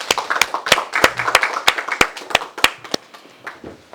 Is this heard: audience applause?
yes